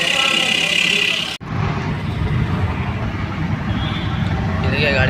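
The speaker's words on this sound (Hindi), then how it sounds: "ये देखिए गाड़ी 80-60 के स्पीड में चल रहा है, तो प्रॉब्लम नहीं दे रहा है।" Hyundai Creta driving at about 60–80 km/h after a clutch release bearing repair, a steady close road and engine roar that drops out briefly near the start, then continues evenly with no obvious noise from the clutch.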